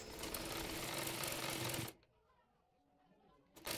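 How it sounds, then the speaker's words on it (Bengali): A sewing machine runs steadily and close by for about two seconds while stitching the folded bottom hem of a blouse, then stops into near silence before briefly starting again. "এবার নিচের অংশে মুড়িয়ে সেলাই করে নেব।"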